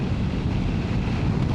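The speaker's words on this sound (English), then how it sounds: "It's quite a windy day today actually, so I am getting blown around a little bit." Steady roaring wind buffets the microphone while riding a 2025 Honda NX500 motorcycle at motorway speed on a windy day, a continuous low rumble with no break and no voices.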